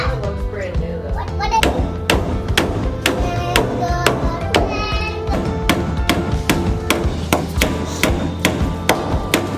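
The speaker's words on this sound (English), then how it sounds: "start putting the rafters in place and nailing them in" Hammer blows drive nails into cabin roof rafters, sharp ringing strikes in irregular bursts with short pauses, while children's voices and chatter carry underneath.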